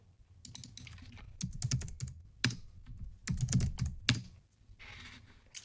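Rapid, uneven keystrokes clatter on a computer keyboard as a short field name is entered, close and clear with brief pauses between bursts.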